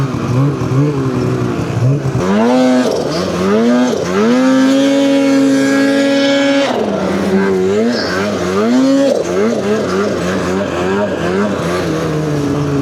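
A Polaris Boost snowmobile with motor trouble runs loud and close while being ridden, its revs rising and falling before holding a strained high pitch for several seconds, then surging and dropping again.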